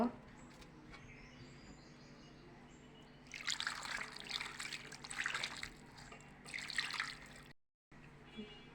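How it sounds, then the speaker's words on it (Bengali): Water is poured into a pan of hilsa fish curry with taro and eggplant, making a bright splashing pour in a few bursts over a low kitchen background, with a short silent gap near the end. "এখন এর ভিতর আমি পানি অ্যাড করব"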